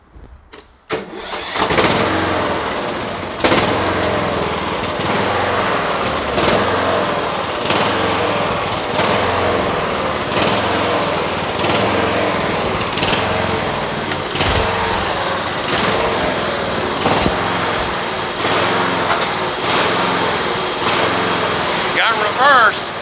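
Tough Torq riding mower engine runs loud and close after a starting sputter, keeping a rough, steady chugging drone throughout with slight surging and some talk underneath.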